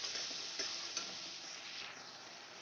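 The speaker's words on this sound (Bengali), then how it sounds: "মশলাটা আমি ভালো করে কষিয়ে নেব।" A spice paste for a fish-head muri ghonto fries in oil over a low flame, giving a steady soft sizzle with faint stirring ticks throughout.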